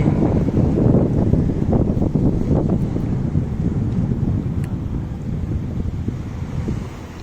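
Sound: strong wind at the beach

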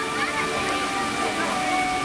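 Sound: fountains and waterfalls at Tokyo DisneySea

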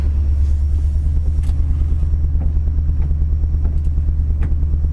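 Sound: 1966 Ford Thunderbird engine idling

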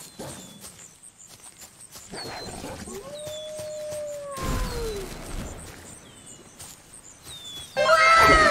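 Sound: dog howling

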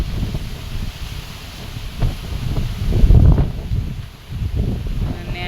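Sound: strong wind rustling trees on a farm

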